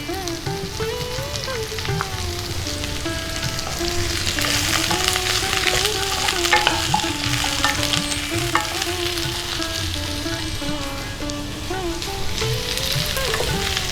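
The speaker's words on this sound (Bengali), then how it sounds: "তারপরে দিয়ে দিচ্ছি টুকরো করে কেটে নেওয়া কুমড়োগুলো।" Chopped pumpkin pieces sizzling in a hot pan during cooking, a continuous, fairly loud frying hiss that holds steady throughout, with a faint tonal background underneath.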